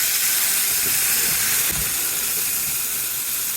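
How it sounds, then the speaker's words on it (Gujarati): Gravy for a corn curry bubbles and cooks in a pan, giving a continuous loud hissing simmer with a few soft pops, heard close and without talk. "આપણી ગ્રેવી એકદમ ખદખદવા માંડી છે અને પાકવા માંડી ગઈ છે"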